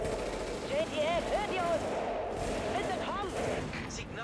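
Bursts of light-weapons gunfire in the video game Tom Clancy's The Division crackle repeatedly in the background while people speak over it.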